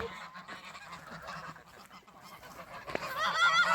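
Geese honk nearby in a noisy flock at a thermal hotel in Turkey's Kaz Mountains, overlapping calls rising toward the end, with a sharp louder honk near the close.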